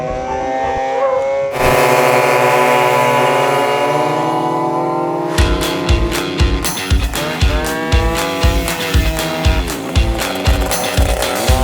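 Moped engine revving steadily, then a rapid series of rhythmic scraping pulses as the Mobylette's exhaust drags along the ground, loud and close.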